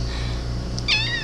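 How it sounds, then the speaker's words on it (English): A house cat gives one short, close meow near the end of a brief moment, rising over a steady low electrical hum. "This is my cat."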